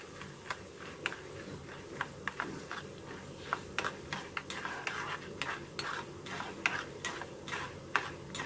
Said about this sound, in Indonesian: sesekali diaduk ya teman-teman supaya tidak gosong seperti ini